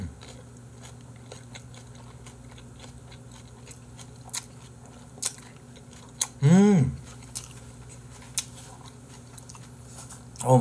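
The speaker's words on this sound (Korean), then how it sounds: "매느리랑 고추 넣어가지고 보리숭어 두 점을 얹었습니다. 과연 얘네도 식감이 이렇게 아삭아삭할지 먹어보도록 할게요." Raw barley mullet sashimi topped with chili is bitten and chewed up close. Soft crunchy bites and mouth clicks come in scattered bursts over a low room hum, with one short voiced murmur in the middle.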